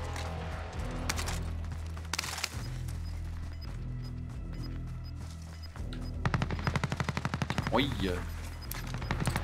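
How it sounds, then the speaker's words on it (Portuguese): Machine gun fire in Call of Duty: Warzone, loud rapid bursts clustered at the start and again in a long stuttering volley near the end, with players talking over the shooting. "O tamanho da metralhadora desse."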